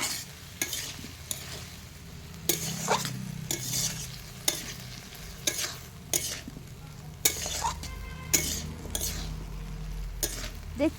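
Spice masala and vegetables for a parshe fish curry are stirred in a frying pan: repeated scraping strokes of a spoon every second or so over a quiet sizzle, close and clear.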